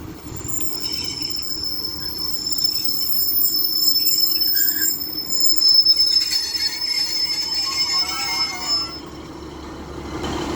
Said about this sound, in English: Now getting ready to depart is 150-103 working the 1558 Northern service to Rochdale